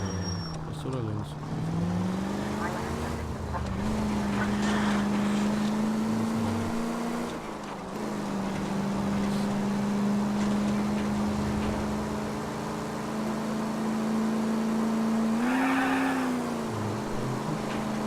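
A car in the video game L.A. Noire accelerates, its engine giving a loud, sustained drone that rises and settles in pitch over a long stretch, with a player's voice talking over it.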